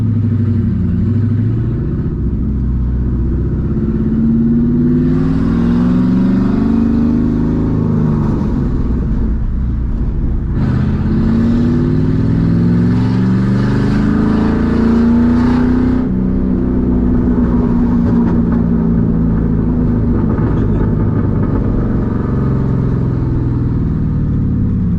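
A loud straight-piped 2007 Mustang GT V8 heard from inside while driving, deep throaty engine drone rising and falling through several revs and shifts, continuous and close with no talking.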